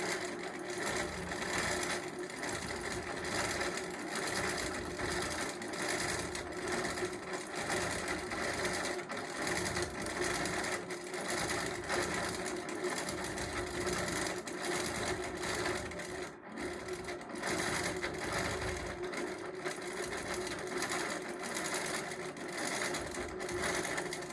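A longarm quilting machine stitches a label onto a quilt, giving a continuous mechanical hum with rapid, rhythmic needle pulses that run steadily throughout.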